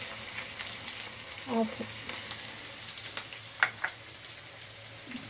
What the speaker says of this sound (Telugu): ఆయిల్ వేడెక్కింది, పచ్చిమిర్చి వేసుకుంటున్నాను.